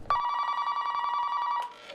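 An old-style telephone bell rings loudly and close, one continuous metallic trill lasting over a second that then cuts off abruptly, followed by a faint clatter.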